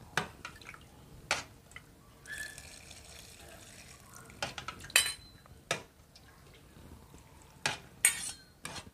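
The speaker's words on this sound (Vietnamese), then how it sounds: "Muỗng với muỗng đụng nhau." Metal spoons clink against each other in a kitchen while pickled bean sprouts are prepared, giving a series of sharp, bright ticks and taps scattered over several seconds, with soft stirring and dripping water between them.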